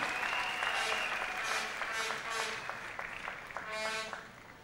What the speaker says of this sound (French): Est-ce que nous pouvons acclamer très fortement pour Jésus?